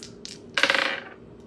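Dice tumble and rattle across a surface during a tarot reading, a short clatter of bright clicks at close range after a couple of lighter taps, with no talk.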